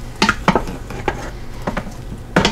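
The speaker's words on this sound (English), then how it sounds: "Let me give that a little stir quick. With my handy wooden spurl." A wooden spurtle stirs pulled pork in an Instant Pot, making short scraping, wet sloshing strokes in an irregular rhythm, close and moderately loud, with a faint simmer beneath.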